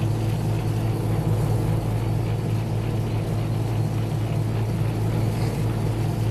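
A vegetable washing machine for cleaning leafy and root vegetables, fish and snails runs with a steady, loud motor hum and churning water rumble, continuous and unchanging throughout, with no talk.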